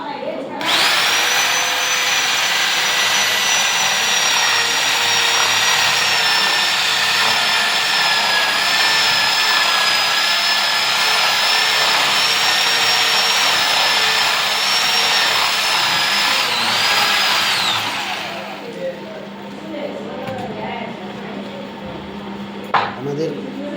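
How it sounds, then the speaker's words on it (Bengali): A power drill boring holes in wood for a door-frame template, running loud and steady with a high whine for about seventeen seconds before stopping, followed by quieter handling noise and a brief knock. "এবারে আমরা মেশিন দিয়ে হোল করছি"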